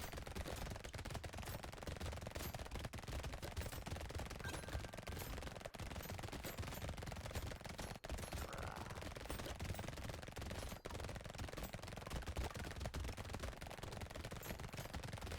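Rapid, continuous SMG fire rattles through a Brotato fight, a dense stream of small crackling shots running unbroken at moderate volume throughout.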